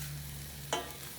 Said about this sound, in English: So I'll get this pan hot, let that garlic cook.